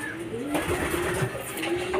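A racing pigeon coming in at the loft after a fun race, with soft cooing and faint fluttering under a low steady background, a voice speaking briefly now and then.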